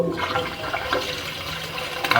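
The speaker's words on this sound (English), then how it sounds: "do have some toilets flushing right now, and that's why the line's holding a bit of water" Toilets flushing into a building's drain line produce a steady rushing, gurgling wash of water heard from inside the pipe, continuous and fairly loud with no voices.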